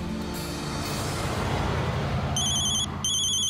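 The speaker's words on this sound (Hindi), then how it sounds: "चाचा जी का फोन आ रहा है उम्मत गांव से।" A telephone rings with short, bright repeated electronic trills starting late, sounding over a loud dramatic musical background in a TV serial scene.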